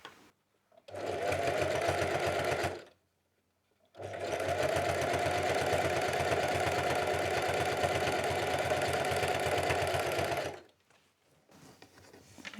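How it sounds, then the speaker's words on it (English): A sewing machine stitches fabric strips for a jelly roll rug, running in a short burst and then a long steady whirring run with brief pauses, close and alone. "And then we're going to put it into the machine."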